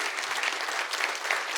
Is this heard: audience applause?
yes